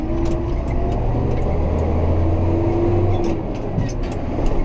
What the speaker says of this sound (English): It's a lovely tractor, that's what it is.